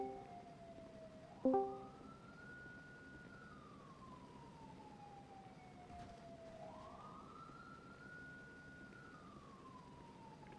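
A police siren wails in long rising and falling sweeps, steady and clear, with a brief sharp knock near the start, in the video game GTA V.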